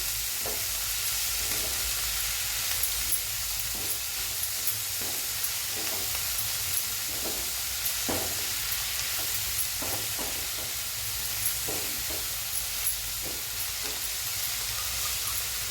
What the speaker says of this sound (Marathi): मेथीची भाजी आहे, बारीक चिरून घेतलेली आहे. ती पण परतून घ्यायची.